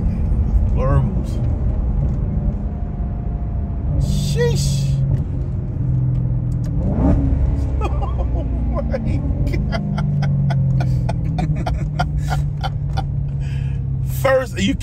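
A Maserati Quattroporte GTS engine rumbles low and steady inside the car, rising in revs and falling back as it brakes on the overrun, with people talking over it throughout.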